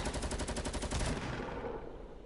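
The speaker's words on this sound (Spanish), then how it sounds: "Es que la están disparando a otro lado" Rapid automatic gunfire in the Fortnite video game, a dense burst of cracks at close range that stops after about a second and trails off into a fading echo.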